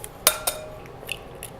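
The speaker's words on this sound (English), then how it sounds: "So first crack 2 eggs" Two sharp cracks of eggs against a bowl rim in a kitchen while making cornbread, close and distinct, followed by faint clinks of dishes.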